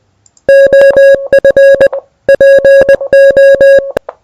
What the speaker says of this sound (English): So this is Morse code.